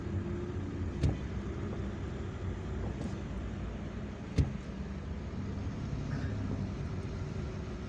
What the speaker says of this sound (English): this video is just when we are stuck in traffic